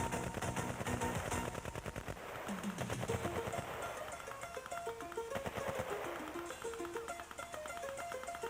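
Machine guns fire overhead during night infantry training, sustained rapid bursts of rattling shots at a distance over a busy, rough background.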